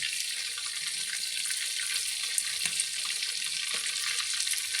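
Chicken pieces fry in hot oil with a constant close, bright sizzling hiss and a few faint pops over nearly five seconds, with no talking.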